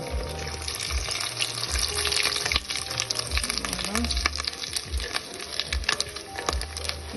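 Fataya (sabusa) pastries frying in oil, a continuous crackling hiss with scattered pops and bubbling, close, with low thumps and handling noises and a bit of quiet background voice.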